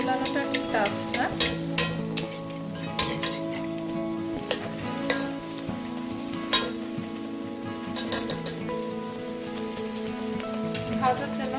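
Green-tinted luchi puff and fry in hot oil, giving a steady, dense sizzle with crackling pops and occasional sharper spatters that run for the whole stretch.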